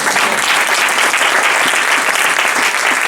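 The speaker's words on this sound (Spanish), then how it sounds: "Dale fuerte el aplauso al" A church congregation applauds loudly and continuously, a dense steady wash of clapping throughout with no pauses.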